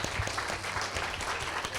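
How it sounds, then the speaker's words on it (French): An audience applauding at the closing ceremony of a game jam, a brief burst of dense, steady hand clapping heard close and fairly loud. "on peut les applaudir s'il vous plaît"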